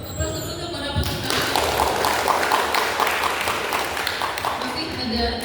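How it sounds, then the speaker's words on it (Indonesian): Audience applause breaks out after a quiz round at an Indonesian school competition, a dense sustained clapping that starts abruptly and fills the room at close range for several seconds, with faint voices mixed in. "Aplaus untuk para peserta"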